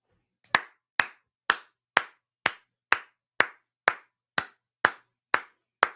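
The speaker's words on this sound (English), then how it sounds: "I'm golf clapping the rest of this one for the Niners." A single person golf-claps slowly, about a dozen crisp, evenly spaced claps roughly half a second apart, close and isolated against a quiet background.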